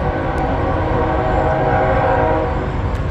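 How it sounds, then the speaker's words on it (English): A train rumbles loudly past at close range, a dense, steady roar of rail noise with tonal horn-like strands running throughout. "Oh, Salaki, this train's bypassing."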